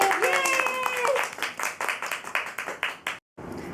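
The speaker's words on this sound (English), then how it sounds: "Clapping!" At home during a potato chip guessing game, a voice speaks and then a few people clap together in quick rhythmic bursts that fade off. The clapping stops abruptly near the end.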